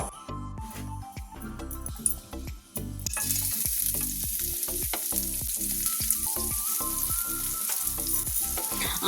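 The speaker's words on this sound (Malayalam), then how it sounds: "അതിലേക്ക് നമ്മൾ ഈ മസാലയെല്ലാം പെരട്ടി വെച്ചിരുന്ന ഉണക്കനെത്തോലി നമ്മൾ ഇട്ട് കൊടുത്തു" Masala-coated dried anchovies hit hot coconut oil in a pan, and a loud, dense crackling sizzle starts up and then holds steady. Music-like tones play underneath.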